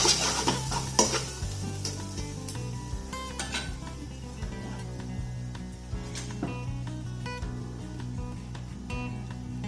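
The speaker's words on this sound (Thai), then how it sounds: "ก็ผัดในหม้อได้เลย" Food stir-fries steadily over low heat in a thin pot while a utensil scrapes and clinks against the thin metal, with occasional louder knocks.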